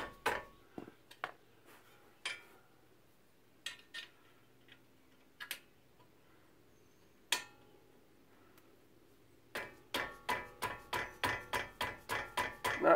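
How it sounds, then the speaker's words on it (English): A mallet tapping a front brake part into place on a 2013 Mazda3 during a pad replacement, with scattered sharp knocks early on, then a fast, steady run of about a dozen close hits. "Now I'm going to put that in there sideways and hit that with the mallet."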